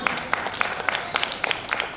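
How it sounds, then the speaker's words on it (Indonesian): A congregation claps at an onsite senior community church service, a soft, fairly distant spread of applause with sharper individual claps standing out, lasting about two seconds. "Beri tepuk tangan buat Tuhan"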